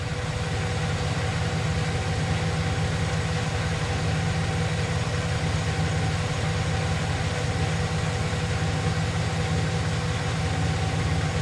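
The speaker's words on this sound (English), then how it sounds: "The engine's running a lot quieter." A 2010 Chevrolet Silverado 4x4 with the 4.3L engine idles steadily and fairly loud, a smooth, even rumble running unbroken with no voices.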